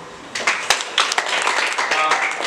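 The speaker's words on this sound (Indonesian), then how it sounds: "tepuk tangan" An audience at a formal ceremony bursts into applause, a sudden start of many hands clapping with sharp individual claps rising above a steady loud wash.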